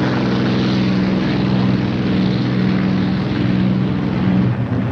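Propeller engines of P-51 fighters and B-29 bombers drone in a loud, steady, close hum with a pulsing throb, continuous and alone without voices.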